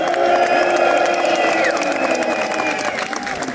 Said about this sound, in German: auch nochmal bitte einen Applaus für meinen Vize